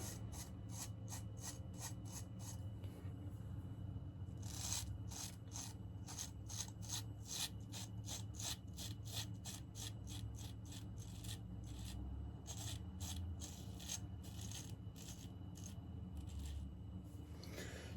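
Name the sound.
straight razor shave with a new WoolfBlade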